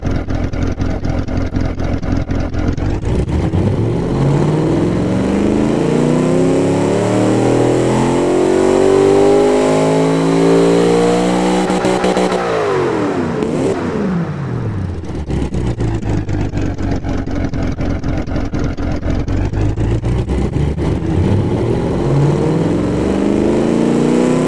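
A V8 engine in the car-building game Automation revs loudly and continuously, climbing in pitch, dropping sharply, then rising again, alone with no talk.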